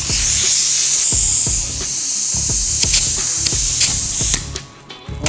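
Compressed air hissing through a valve while pressurizing a dirt bike engine, a loud steady spray broken by repeated sharp clicks and knocks, easing off near the end.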